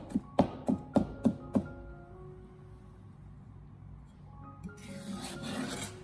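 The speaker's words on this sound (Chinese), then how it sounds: "先把大蒜改刀切成蒜片，片切好以后，再把它改刀切成蒜末" A kitchen knife chops garlic on a cutting board with six sharp, evenly spaced thuds close up. Quieter scraping and shuffling on the board follow.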